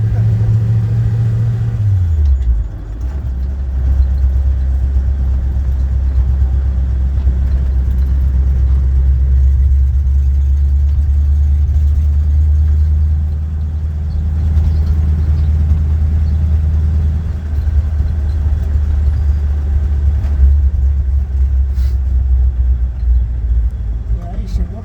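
A 1952 Ford F-2 pickup truck driving at a steady cruising speed, its engine giving a loud, constant low drone after a brief dip in pitch near the start, with people talking over it inside the cab.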